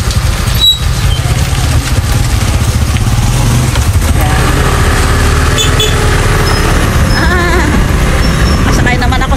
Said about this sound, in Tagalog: Nakamotor kami